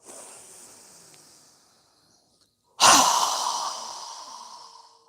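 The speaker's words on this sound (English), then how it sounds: "exhale through our mouth with a strong exhale as we lower our arms down" Strong exhale through the mouth during yoga breathing, a fading breathy release followed by a sudden loud, close whooshing breath that trails off slowly.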